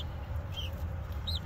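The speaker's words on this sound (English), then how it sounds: "Pigeons." Pigeons in a breeder's loft during banding season, soft cooing and clucking calls rising over a steady low hum of background noise, a few short chirpy notes fairly close.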